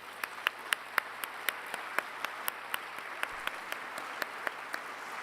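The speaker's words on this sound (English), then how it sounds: "a big round of applause to everyone" Closing-ceremony applause at a world forestry congress, with a distant wash of audience clapping and a single nearby pair of hands clapping in a steady, regular beat, all fairly faint over a low electrical hum.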